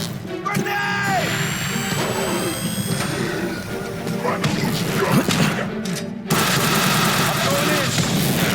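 Grenade blasts and heavy crashes from The Bureau: XCOM Declassified combat, mixed with rapid gunfire in a dense, loud wash. Shouted voices break through, and the din jumps sharply louder again near the end.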